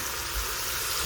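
Water pours into a Ninja Foodi pressure cooker holding seasoned beef and half an onion, a steady, close splashing stream that runs for about a second.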